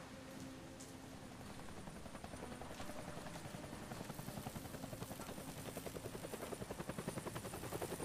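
A video game helicopter's rotor thumps steadily through a dense wash of broadband noise, the rhythmic chop growing stronger toward the end.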